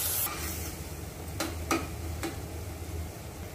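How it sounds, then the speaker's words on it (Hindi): Ratalu (purple yam) is stirred in a pan over a medium flame, with a few quick scraping strokes over a low, steady cooking hiss. "इसको थोड़ी देर इस तरह से चला देंगे। जब तक हमारा मसाला तैयार होता है तब तक हम इसको इस तरह से मीडियम फ्लेम पर पका देंगे।"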